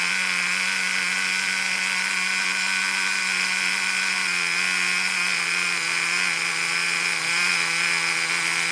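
A vintage Kyosho FW-06 nitro RC car with a 2-speed gearbox idles close by, giving a steady, high-pitched buzzing drone that holds evenly throughout with no talking.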